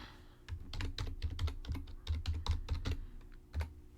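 Fingers typing a username on a computer keyboard into a chat box, a quick run of close, crisp key clicks in uneven bursts with short pauses, heard alone without talk.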